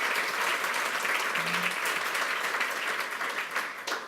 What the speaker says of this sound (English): yes, we can applaud for her